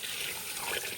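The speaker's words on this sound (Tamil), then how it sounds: "தண்ணி சேர்த்துக்கிறேன்." Water pours into a pan of chicken being cooked for biryani, a steady broadband splash and gush lasting about a second, close and fairly loud with no talk.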